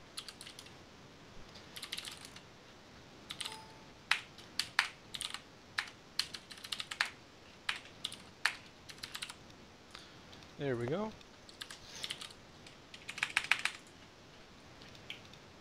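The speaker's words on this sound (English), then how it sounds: "It's a mechanical keyboard, so it's really loud." Loud, clicky mechanical keyboard typing in irregular bursts of keystrokes, with a brief spoken phrase partway through.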